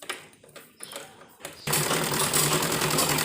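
Sewing machine stitching close along the edge of a folded salwar waistband, running in a loud steady whir after a stretch of quieter handling taps and rustles.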